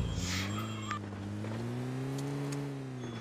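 A car driven in the PUBG Mobile Lite mobile game gives a steady engine drone that rises slightly in pitch. It runs continuously, with a few faint clicks and game effects over it and no talk.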